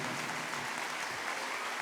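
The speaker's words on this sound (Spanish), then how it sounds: "Un fuerte aplauso para ellos" A congregation at a church Bible seminar gives a strong round of applause, a thick, steady clapping that fills the room at constant loudness with no speech.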